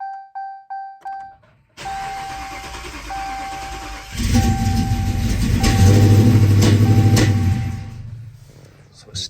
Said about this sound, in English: So it started right up. It was definitely backfiring right away.